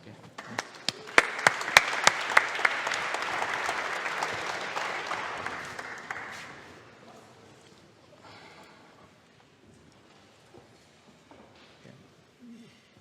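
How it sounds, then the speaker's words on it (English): Audience applause fills a conference hall before a Pharma.AI platform talk at ARDD2023, loud and steady for about six seconds with a few sharp claps, then fading to scattered claps and room noise. "Give them a round of applause."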